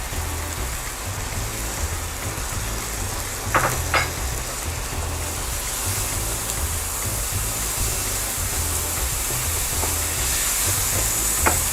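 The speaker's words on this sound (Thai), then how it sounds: "แล้วก็ใส่เนื้อหมูนะคะ ของเราลงไป ก็สักประมาณ 1 ช้อนโต๊ะได้ค่ะ" Minced pork being dry-fried in a pan without oil for a kidney-friendly fried egg-white larb, giving a steady close sizzle throughout with a couple of sharp utensil scrapes partway through.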